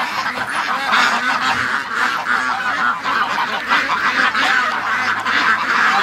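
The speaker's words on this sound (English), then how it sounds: "All right, let's let these ducks out." A flock of ducks let out of their pen quack and honk loudly and continuously, a dense close chorus of overlapping calls with no voices.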